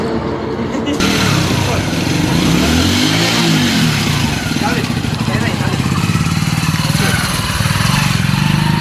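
A motorcycle revs and accelerates up close while carrying riders toward a petrol pump, its engine loud and varying in pitch throughout, with people talking over it.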